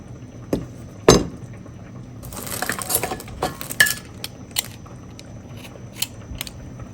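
Fresh ginger being peeled in a home kitchen, with faint scraping and a few crisp knife clicks and taps spread over several seconds in a quiet room.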